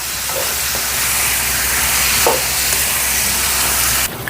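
Sliced pork belly sautéing in a hot pan with salt and pepper, a loud continuous sizzle and hiss with occasional stirring scrapes, close up and without voices.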